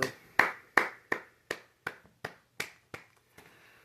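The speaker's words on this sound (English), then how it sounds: "I'm going to give a round of applause, man." A single pair of hands claps in slow, evenly spaced strikes, about ten sharp close claps that gradually soften, heard alone with no voices.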